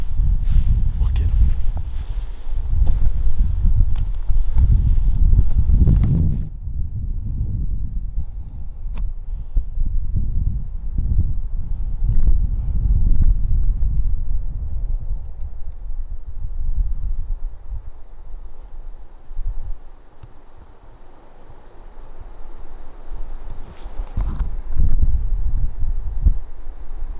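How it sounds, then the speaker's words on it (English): Gusty wind buffets the microphone outdoors in the North Dakota Badlands, a loud low rumble that surges and eases in waves over nearly half a minute, with occasional faint rustling. "The wind is just swirling so bad."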